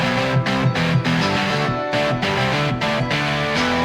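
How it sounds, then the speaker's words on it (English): Several UJAM virtual guitar tracks play together in a dense, continuous layered mix with steady strummed chords and a regular rhythmic pulse, loud and close, with no voices. "Now all the guitars together sounds like this."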